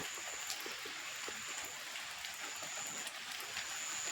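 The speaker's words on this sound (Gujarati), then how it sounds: "ધીમે ધીમે વરસાદ વરસે જોઈ શકો છો" Soft, steady rain patters continuously, a fine hiss with scattered light drops, quiet and even throughout with no voices.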